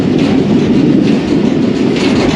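Karachi Express train running on a railway track in flood-hit Sindh, a loud, close, steady rumble with clickety-clack from the wheels and no talk.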